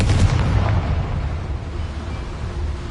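A Confringo blasting spell in the Hogwarts Legacy video game blows up a boiler, a sharp close boom that fades into a rumbling, crackling tail.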